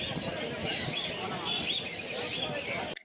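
Exotic cage birds chirp and tweet in a busy mix at the Mirpur bird market, a dense layer of calls running steadily over a background din, with no one speaking.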